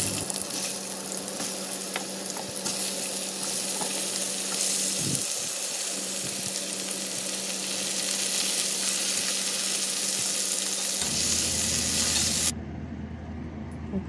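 Oil sizzles in a frying pan as a little more is poured in for a rohu fish curry, a steady dense hiss running the whole time with low bubbling beneath, quieting sharply near the end.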